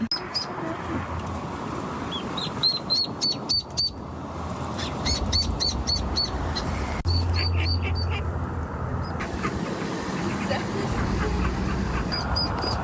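A mother duck and about a dozen ducklings trapped down a hole in a park call with repeated high peeping and quacks over steady low background rumble, as people talk nearby.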